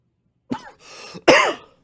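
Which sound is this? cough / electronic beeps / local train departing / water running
cough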